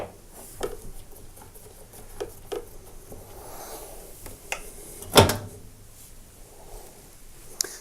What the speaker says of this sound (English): I'm going to be taking the door as well as the hinge off.